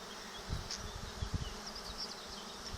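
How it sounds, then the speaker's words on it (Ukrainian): A honeybee swarm buzzes at an apiary, a dense continuous drone with individual bees whizzing past close by, with faint low bumps beneath and no voices. "Ну бджоли не розлітаються, вони будуть разом всі, так?"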